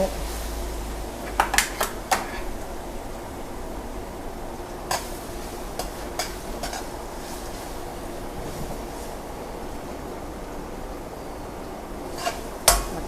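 Chili is stir-fried in a pan in a home kitchen, a steady low sizzle broken by scattered sharp clinks of a utensil against the pan, with a faint voice in the background.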